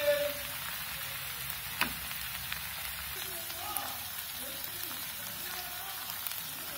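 Chilli and turmeric powder frying in a pan for egg biryani, a steady close crackling sizzle with faint stirring scrapes, no talk.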